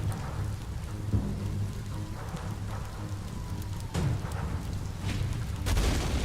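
Rain in the video game Biomutant, a steady hiss of falling water with low rumbles of thunder rolling underneath and a few louder booms toward the end, no talking.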